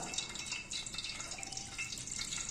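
Water pours and trickles into flour in a steady, soft splashing stream, close and fairly quiet.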